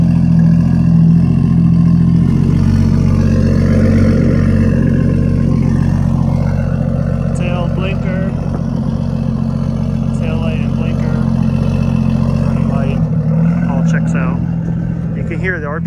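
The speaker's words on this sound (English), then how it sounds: "I mean, I think this is a straight pipe, so it's really loud." A 1998 Nissan Skyline R34 GTT coupe with a straight pipe exhaust runs loud and close, a steady deep idle with a few blips of revving layered on top and a brief dip near the end.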